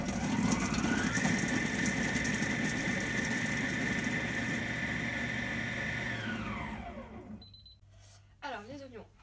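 A Moulinex Companion food processor whirs steadily at high speed 11 while chopping onions, a loud continuous motor drone that winds down near the end, followed by a few short beeps.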